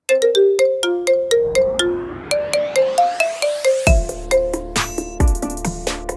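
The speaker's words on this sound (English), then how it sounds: "Check out these marimba ringtones of the most popular tracks right now." Bright marimba ringtone version of a popular chart track, playing a quick run of plucked wooden mallet notes before heavier bass and percussion kick in, loud and clean with no talking.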